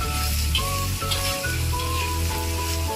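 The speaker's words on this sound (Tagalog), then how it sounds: "fry until the chili cook." A chili omelette fries in a pan, a steady close sizzle with a low bubbling hum continuing evenly throughout, with no talking.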